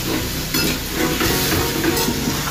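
Curry sizzles in a pan as water is poured in, giving a steady, fairly loud hiss and bubbling throughout with no talking.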